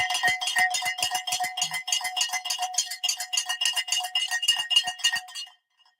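A stock market opening bell rings at 9:30 a.m. on the first trading day of January, a rapid metallic clanging that repeats steadily for about five seconds, close and fairly loud, then stops.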